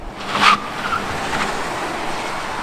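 A rebuilt salvage Tesla electric car accelerating hard, a short rushing surge at the start settling into steady, fairly loud road and wind noise without any engine roar.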